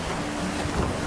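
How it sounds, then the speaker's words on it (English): Strong wind buffets the microphone by a bridge near Rosthwaite in the Lake District, a steady loud roar with no pauses and no talking. "Wow, the wind is getting up."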